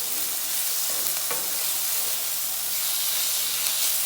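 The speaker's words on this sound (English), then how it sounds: "You saute onions in red wine," Two large onions sautéing in red wine in a hot pan, a steady loud sizzle and hiss with faint crackles throughout, no voices.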